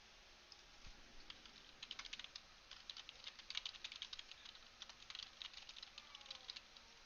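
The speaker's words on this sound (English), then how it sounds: "My keyboard is coming through really loudly on the stream." Rapid, uneven clicking of a computer keyboard being typed on, close and fairly quiet, continuous for several seconds with no voices.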